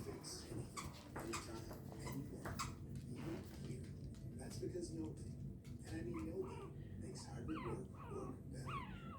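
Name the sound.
Shih Tzu puppy whimpering and yipping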